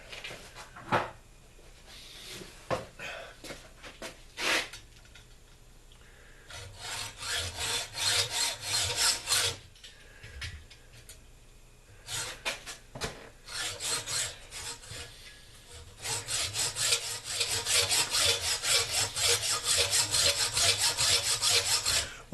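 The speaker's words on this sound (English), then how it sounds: "And where's my hacksaw? Hacksaw, hacksaw, where'd you go?" Hacksaw cutting metal held in a vise, with repeated rasping back-and-forth strokes in bursts separated by pauses, growing steadier and more continuous toward the end, close and moderately loud.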